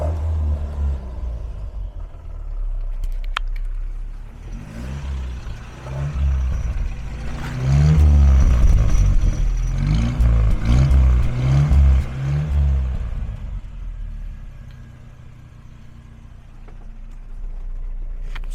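A 1928 Chenard & Walcker T11 engine starts and idles with a low, steady rumble, revving briefly louder in the middle before settling back to a smooth idle.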